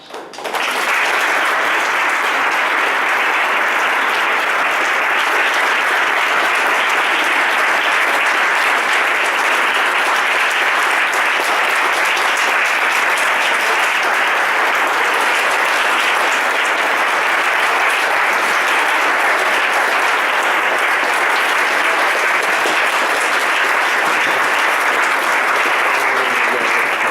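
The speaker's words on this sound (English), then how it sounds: "a round of applause" Audience applause at an award ceremony for the Emma Birkmaier Award: dense, even clapping from a large crowd, sustained at a steady level for nearly half a minute.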